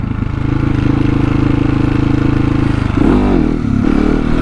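A KTM 701 motorcycle doing second-gear wheelie practice, its engine droning steadily at close range before the tone shifts and wavers around the three-second mark as the throttle changes.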